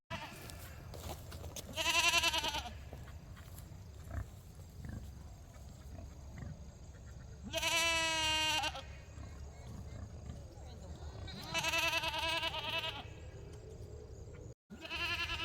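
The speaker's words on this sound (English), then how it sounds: "hopefully these goats don't chase me over here" Farm goats bleat loudly three times in long, wavering calls spaced several seconds apart, with quieter rustling and outdoor ambience between them.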